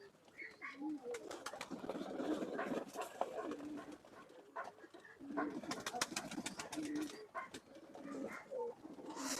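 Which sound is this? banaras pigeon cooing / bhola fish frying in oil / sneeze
banaras pigeon cooing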